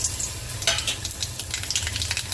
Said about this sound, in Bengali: তার মধ্যে কালো জিরে আর শুকনো লঙ্কা ফোড়ন দিলাম